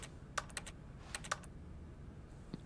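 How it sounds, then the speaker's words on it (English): Keyboard typing in the video game The Stanley Parable: two quick bursts of crisp, clicky keystrokes over a low ambient hum, fairly quiet and with no voices. "I love this keyboard typing sound."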